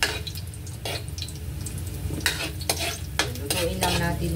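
Ginger and mung beans fry in a pan with a steady sizzle, broken by several sharp clinks and scrapes of a utensil stirring, close and clear with no talk.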